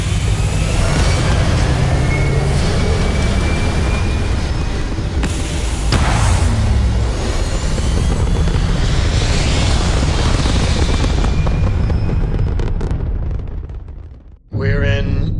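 A spacecraft lifts off in a video game with a loud, sustained engine roar like heavy aircraft thrust, rumbling continuously for about fourteen seconds before cutting off abruptly.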